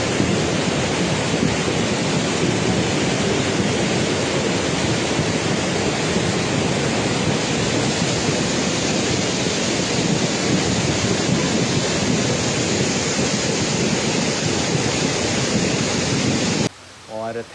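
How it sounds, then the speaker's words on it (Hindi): Floodwater from a cloudburst roars down the Gadsa river in Himachal, carrying wood along; a loud, dense, steady rushing torrent fills the scene from near by, continuous and unbroken until it cuts off abruptly at the end. "बहुत ही जोरों से पानी आ रहा है।"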